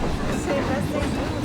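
Disneyland Railroad train rolling through a Planet Coaster park recreation, a steady rumbling rail noise with faint clatter throughout, moderately loud and continuous.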